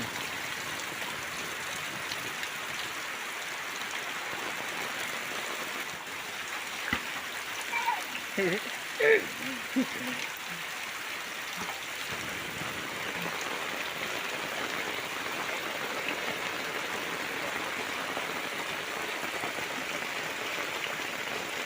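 Heavy rain pouring down over a village, a continuous dense hiss of falling water with a few brief louder knocks partway through and a faint voice in the background.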